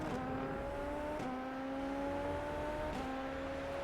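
A high-pitched inline-four turbo Super Formula race car engine in a video game at Fuji drones steadily, its pitch climbing in long sweeps with brief drops at gear shifts, loud and close throughout.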